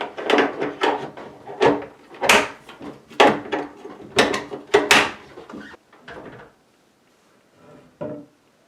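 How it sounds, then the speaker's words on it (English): Hinges on a wooden closet door being snapped back into place: a rapid series of about a dozen sharp, loud clicks and knocks, bunched close together, then a few fainter ones after a brief pause. "Now you're just going to take your door and snap your hinges back in place."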